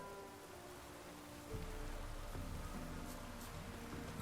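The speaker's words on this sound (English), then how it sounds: "Looks like rain." Rain falling in The Witcher 3, a steady hiss of rainfall on surfaces that thickens partway through, with faint distant patter and no voices.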